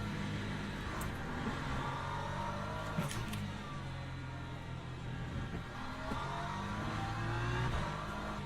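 LMP2 prototype race cars in the Le Mans Ultimate racing game drone and whine continuously, engines rising and falling through gear changes, with a few sharp clicks over the steady engine noise.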